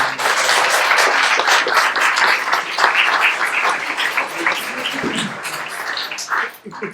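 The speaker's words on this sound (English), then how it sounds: "you may agree with what somebody says and you may want to applaud" Sustained applause from the public audience at a town council meeting, a dense wash of many hands clapping that stays loud and steady before trailing off.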